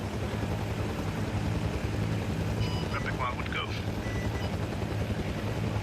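Military helicopter in a tactical shooter game, its rotor and engine drone steady and loud throughout, with people talking over it on radio.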